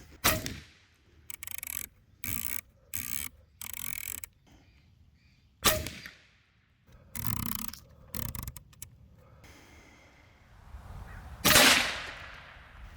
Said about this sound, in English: I'm gonna shoot right in the middle here.